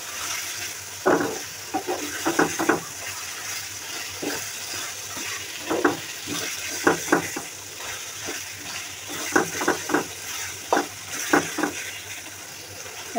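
Curry cooking in oil as it is sautéed and stirred, with repeated scraping and clattering strokes over a soft background sizzle, irregular and close.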